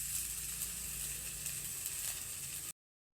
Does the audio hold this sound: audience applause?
no